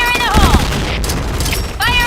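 Bursts of gunfire crackle through a multiplayer shooter game round, dense and loud, broken by a short gap midway, with game voice prompts and players chatting over the shots.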